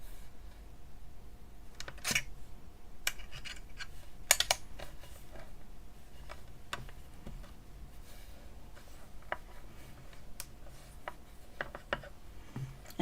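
Sharp, faint clicks and taps of a blade cutting through a polymer clay snowflake cane, scattered irregularly over a quiet background with no talking.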